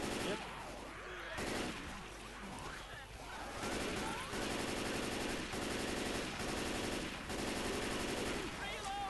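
Rapid automatic gunfire rattles in repeated sustained bursts during a Left 4 Dead 2 zombie match, loud and close, with players talking over the shooting.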